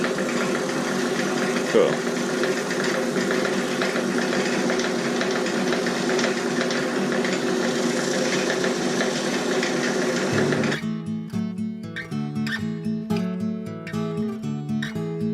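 A wood lathe turning an oak bowl runs at speed with a steady mechanical hum and rattle for about ten seconds. A brief spoken word is heard, then music takes over.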